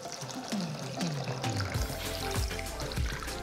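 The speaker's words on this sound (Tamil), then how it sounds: "இப்போது நான் தண்ணி ஊற்றி ஊற வச்சிடுறேன்." Water pours steadily into a bowl of rice and lentils for soaking, a continuous splashing trickle with small gurgles, close by and fairly quiet.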